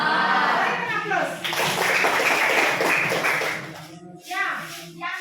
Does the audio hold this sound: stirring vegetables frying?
no